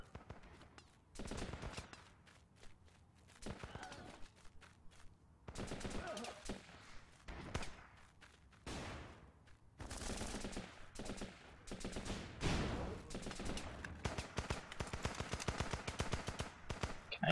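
In the video game Running With Rifles, gunfire crackles in repeated bursts of rapid automatic shots and scattered single reports, some near and loud, others more distant, continuing throughout.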